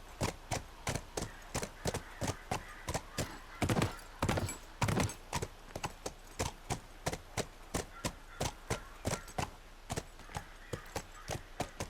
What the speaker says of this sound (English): Jesus Christ, get off the horse.